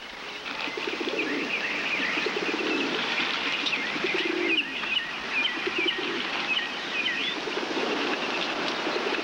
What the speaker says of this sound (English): Philbrick, but this is the first time you've ever been ordered to City Hall Park to feed the pigeons.